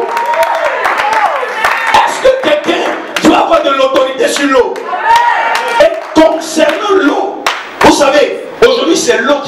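A church congregation claps loudly and rhythmically while acclaiming Jesus, with a shouting voice and crowd cheering over the sustained hand claps.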